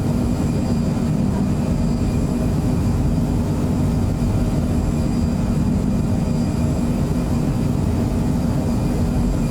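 Phenom 100 business jet in flight in MSFS 2024, a loud, constant engine roar with a deep rumble and steady whine, unbroken throughout with no talking.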